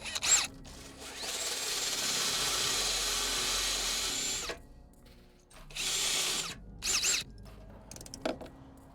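A power tool tightens a ground bolt on a car battery in a sound system wiring upgrade. It gives a close, high whirring drill sound in two long runs, with short quiet gaps and brief bursts between them.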